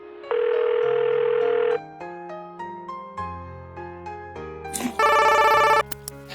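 A telephone rings during a call: a sustained electronic ring burst, then a run of melodic ringtone notes and a second bright, buzzy ring burst near the end, loud and close with no talking.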